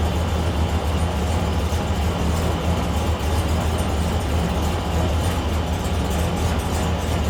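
A 2001 Chevrolet Silverado engine idling, a steady low droning rumble with constant broadband noise and no variation in speed, close and fairly loud.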